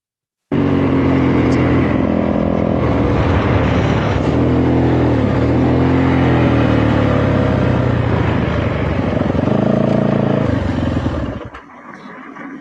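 Loud engines of motorcycles roaring close by without pause for about eleven seconds, their rumble rising and falling as they pass, then fading into quieter background noise.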